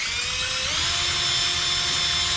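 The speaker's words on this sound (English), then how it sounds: "let me see if I can drill that out now without destroying it again" A power drill bores out a stuck bolt on a 2004 Suzuki LTZ250 quad, a steady high-pitched whine running continuously and fairly close, its pitch shifting slightly as the bit bites.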